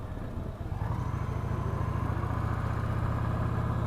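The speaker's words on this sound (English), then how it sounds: "Man, this is a nice bike. Sounds good, runs good." A 2016 Victory Cross Country touring motorcycle engine idling steadily, a deep, even rumble heard close up and alone without voices.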